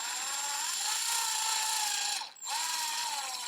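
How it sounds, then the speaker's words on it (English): A power drill bores into a cast figure head, hollowing it out with a steady, close, high whine that cuts off for a moment near the end, then resumes. "Make sure I don't go too far to drill at the top"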